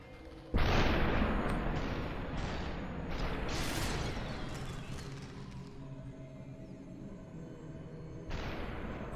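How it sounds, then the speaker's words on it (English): Enemy machine gun fire in the SUPERHOT game on PC, a sudden loud burst followed by rapid overlapping shots and booming reports that fade out, then another sharp onset near the end. "Ooh, they got machine guns."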